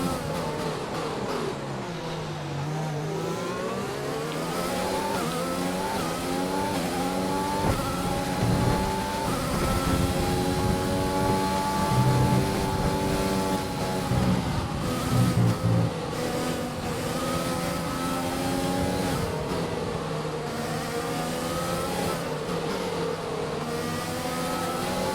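A Formula 1 car in F1 2020 pulls out of the pit lane, its engine revving up and shifting through gears in rising and falling sweeps, loud and up close with no voices.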